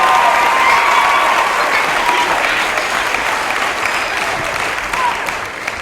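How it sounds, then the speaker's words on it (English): Audience applause for the cast's final bow at a school theatre show, a dense, loud, sustained wash of many hands clapping that carries on throughout, with some voices faint underneath. "Give them another big round of applause."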